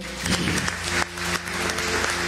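Applause rises in a church congregation during worship, a dense, fairly loud wash of clapping with a sustained tone and brief dips.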